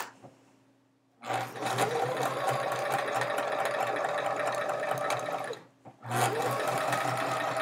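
A sewing machine stitches chevron seams on a quilt, with the red fabric sewn first. Two long, steady runs of rapid, even needle whirring sound close and loud, split by a brief pause, with no talking.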